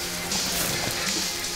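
Steady rain in the survival game The Forest, a continuous even hiss of drops falling on surfaces that fills the moment with no voices.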